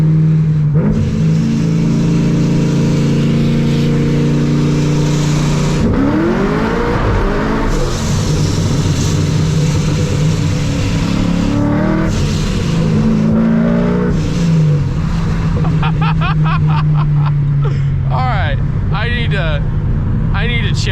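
A supercharged C6 Corvette engine roars loud and close, revving up through several rising acceleration pulls with gear changes, then fast rapid revs near the end, continuous over the whole stretch.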